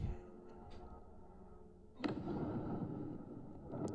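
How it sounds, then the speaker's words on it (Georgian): A Shahed-type drone crashes in Dnipropetrovsk oblast with a sudden sharp blast midway, followed by a sustained low roar and rumble after a quieter, hum-filled lead-in. "ეს არის შაჰიდის ტიპის დრონის დაცემის მომენტი და ძლიერი აფეთქება"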